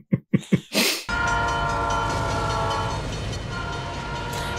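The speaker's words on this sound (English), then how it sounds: "Does that freight train come through at 5 a.m. every morning?" A freight train in the film My Cousin Vinny passes close and loud, its horn blaring in several sustained chords over a rumbling, clattering roll after a few short bursts of sound at the start.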